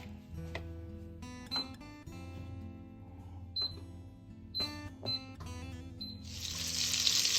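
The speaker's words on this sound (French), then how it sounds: "je prends 60 g de beurre et je vais le faire fondre à feu vif dans la cocotte" Butter, 60 g, melting over high heat in a casserole pot for ossobuco: several sharp metallic clinks and taps, then a bright hiss of sizzling rises and swells near the end.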